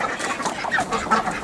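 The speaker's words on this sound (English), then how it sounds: "and there are more of the ducks." Backyard ducks kept on a suburban self-sufficient homestead quack in a few quick, overlapping calls, close by and clear, with no speech over them.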